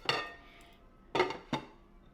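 A lid is set onto a crock pot during a pot roast, giving one clear clink followed by two more brief ceramic knocks, close and fairly quiet, with no voices.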